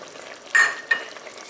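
Lemon thyme is stirred into reducing wine in a pot for French onion soup, with two short scraping swishes of a spoon close by over a soft background simmer.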